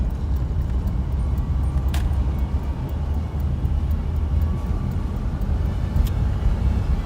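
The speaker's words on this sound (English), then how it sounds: "Give her a little bit of gas coming out here, get up to 50." A 1949 Cadillac driving and picking up speed toward 50, heard from inside as a steady low engine and road rumble with constant wind noise and a couple of faint clicks, no talk.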